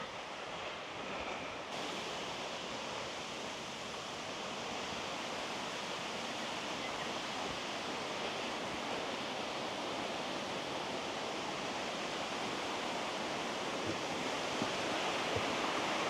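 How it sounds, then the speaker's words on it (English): Steady broadband rush of running water from a stream on a forest walk track on Mt Fyffe near Kaikoura, constant and fairly close for the whole stretch with no voices. "And I hear some water."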